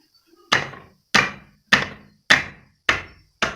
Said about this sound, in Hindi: तो अब ये काट काट के रखेंगे, फिर इसके बाद धुलाई होगी